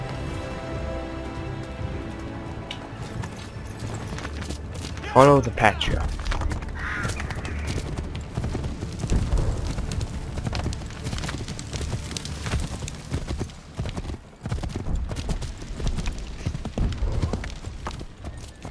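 Horse hooves clip-clopping in the video game Assassin's Creed 3, a steady rhythmic trot under game ambience with crows cawing and rain, while someone talks over it.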